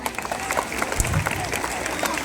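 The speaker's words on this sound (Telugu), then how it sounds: "ఒకసారి అమ్మలకి అందరు చప్పట్లు కొట్టండి" At a school annual day celebration, an audience claps for the mothers, a dense, steady patter of many hands sounding close and fairly loud for a couple of seconds.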